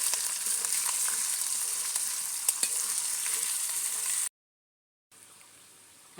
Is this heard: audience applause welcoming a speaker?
no